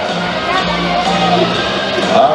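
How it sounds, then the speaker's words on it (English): A large rodeo crowd at a stampede exhibition, cheering and shouting in a dense, roaring wash of voices, with an announcer talking over it. "what a great Sunday night crowd"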